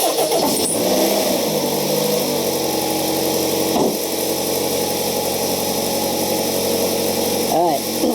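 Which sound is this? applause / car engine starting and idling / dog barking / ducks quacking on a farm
car engine starting and idling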